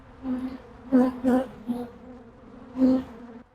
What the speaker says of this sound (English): there's some just bees over there mad. Bees are mad.